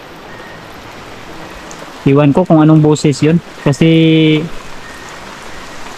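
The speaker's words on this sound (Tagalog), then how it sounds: "So kanina mga tol, biglang lumakas yung ulan." Constant rain roars in the background throughout while someone speaks briefly in the middle, the downpour continuing after he stops.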